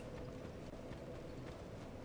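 Angry pigs charging in the video game Dark Souls II: a faint, continuous patter of rapid hoofbeats that keeps up a running rhythm throughout.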